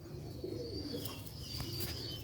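Pigeons kept by a fancier of long-distance flying pigeons coo softly in a steady low murmur, with faint chirps and bird sounds around them.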